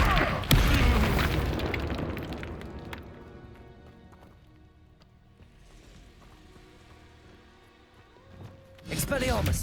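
A Confringo fire spell explodes in the video game Hogwarts Legacy, a loud boom near the start, followed by a fading rumble, game sound effects and a second burst near the end, with a character's voice shouting over the action.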